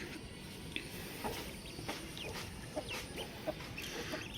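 A mother hen clucks softly in short, scattered calls beside four-day-old ducklings, faint over a steady background hiss with a few brief chirps.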